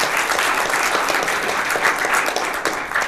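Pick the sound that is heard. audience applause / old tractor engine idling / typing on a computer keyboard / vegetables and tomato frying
audience applause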